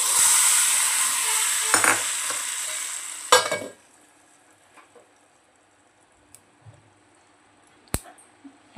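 Tadka tempering for South Indian coconut chutney sizzles loudly in a pan for a few seconds, with a couple of stirring knocks, then cuts off, leaving near silence with faint clicks and one sharp tap.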